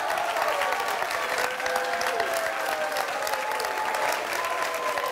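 Steady, loud applause from a high school quiz show audience after a quarterfinal match, continuous clapping with a few faint voices in the crowd.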